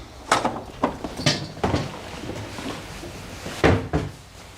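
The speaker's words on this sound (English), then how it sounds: "This is the original Jacobean door" An original Jacobean wooden door in a historic Northamptonshire home, heard as a series of close, sharp wooden knocks, clunks and a latch rattle as it is worked open, with quiet room tone between the bangs.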